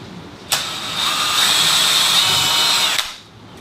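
A power drill bores a test hole up into a wooden ceiling stud, a single loud whining burst of about two and a half seconds starting and stopping sharply, close by with no talking.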